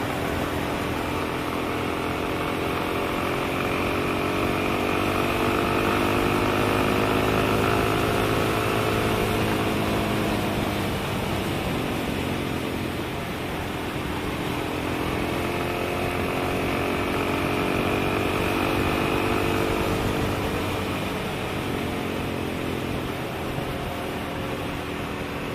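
Suzuki DRZ400 dual-sport motorcycle engine droning steadily while riding on winter dirt roads, its loud continuous hum rising and falling gently with throttle, no voices.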